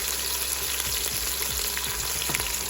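Crushed small shallots fry in oil for a Tamil fish curry, making a dense, even sizzle close by, with soft stirring scrapes underneath.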